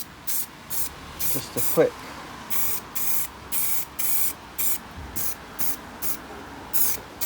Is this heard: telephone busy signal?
no